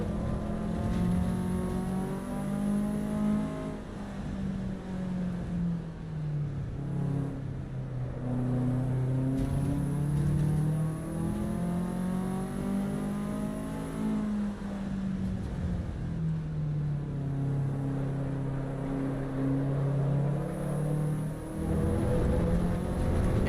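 A race car in the Assetto Corsa Evo racing game, pushed hard on a hot lap, its engine note climbing and dropping through the gears in one loud, continuous howl with brief lifts off the throttle.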